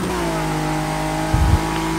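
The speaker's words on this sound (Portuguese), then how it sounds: "soltou a charutada, deu um passe no GG e foi-se embora" GT race cars overtake at Watkins Glen in Forza Motorsport 6, giving a steady, close, high-revving engine whine with a brief low thump partway through and no voices.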